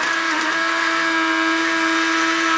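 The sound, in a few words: Hornby model diesel/electric locomotives running on track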